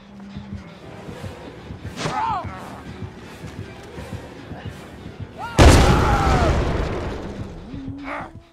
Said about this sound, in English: her hatchets for some reason made a tremendously loud explosion sound on impact with a survivor